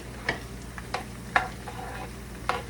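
A pork chop with egg fries in a pan, a soft sizzle running throughout, broken by a handful of sharp scraping taps from stirring at irregular intervals.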